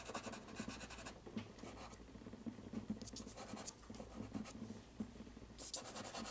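Soft, fairly quiet scratching of a deep carmine pastel stick over blue on paper, in repeated short strokes with an uneven rhythm, heard without any talk.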